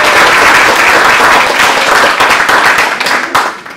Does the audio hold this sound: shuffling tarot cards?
no